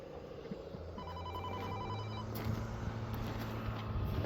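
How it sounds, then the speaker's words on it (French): A telephone rings in a farm setting in Mayenne, France, with a repeated electronic trill in a short burst over rumbling machinery, fairly faint and with no speech. "Il m'appelle mon téléphone."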